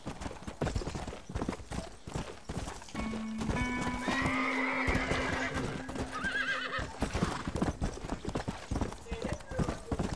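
Hooves clip-clop steadily as a horse runs in the video game Red Dead Redemption, with a horse whinnying partway through and people talking over the game sounds.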